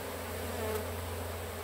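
Bees from a colony of about 30,000 buzz steadily during a hive move, a dense continuous drone close by with no talking.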